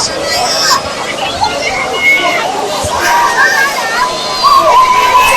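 A packed crowd at an A-grade netball grand final between Moe and Morwell gives off a steady babble of chatter and cheering, with a commentator talking over the top throughout.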